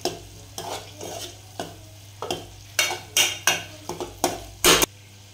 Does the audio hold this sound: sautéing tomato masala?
yes